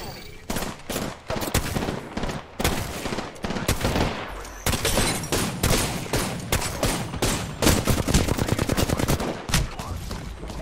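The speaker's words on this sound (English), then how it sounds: "I'm taking fire, friends. Opening fire on the enemy." Loud, dense gunfire from the Apex Legends video game, with rapid automatic bursts and single shots overlapping almost continuously, punctuated by brief pauses.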